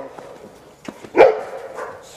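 Puppies yip and bark in short bursts, one louder bark standing out among softer, scattered yelps.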